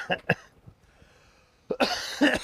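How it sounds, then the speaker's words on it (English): A few sharp coughs, two quick ones at first, then a burst of harsher coughing and throat clearing after a quiet gap. "Disregard the coughing in the background."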